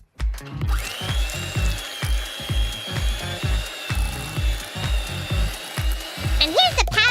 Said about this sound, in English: Here we have 340 grams of softened butter. We're gonna whisk it really well till it has a nice fluffy consistency